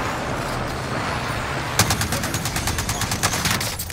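Rapid burst of video game gunfire during a firefight around an armored truck, sharp repeated reports starting partway through and continuing steadily over a rumbling engine-like background.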